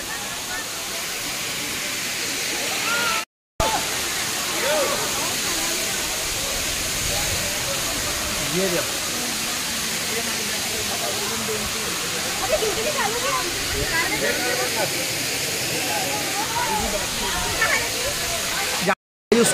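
Waterfall at Pachmarhi, a loud, continuous broadband rush of falling water heard close by, with faint voices of people in the background.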